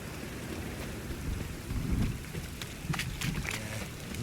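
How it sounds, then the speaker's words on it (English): Steady rain falls in The Witcher 3, a soft continuous hiss with low rumbling swells and scattered patters on surfaces, faint and distant, with no voices. "Rain again. Damn mages."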